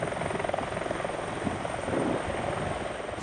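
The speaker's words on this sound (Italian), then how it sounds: "oltre all'elicottero dei Vigili del Fuoco del Soccorso Speleologico" A fire brigade rescue helicopter flies overhead during a river search, its rotor and engine making a loud, steady, unbroken roar.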